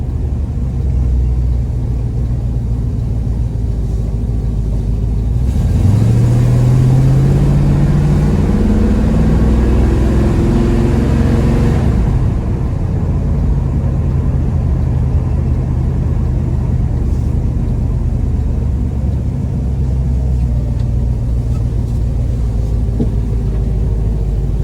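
A 1966 Ford Mustang GT350 tribute idles with a deep, steady rumble, then revs up briefly with a rising roar before settling back to a loud, even idle, heard close with no talk.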